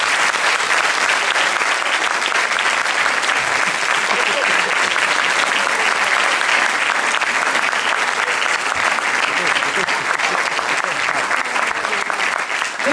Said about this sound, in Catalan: Fort aplaudiment també per ells.